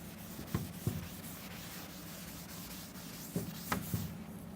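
Soft rubbing and scraping of an eraser across a board, heard as a few short swipes in two bursts against a quiet room background, with no talk.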